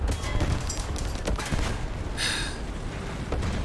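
Italian Semovente 75/46 M43 tank destroyer cannon fire in the War Thunder video game, a dense, sustained roar of battle gunfire and explosions with a sharp blast near the middle, loud throughout.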